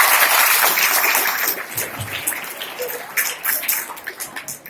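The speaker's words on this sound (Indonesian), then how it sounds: "Tepuk tangan buat yang sudah jawab." Students at an Islamic boarding school in Sukabumi clap for classmates who answered a question; the applause starts loud and dense, then thins into scattered, fading claps over a few seconds.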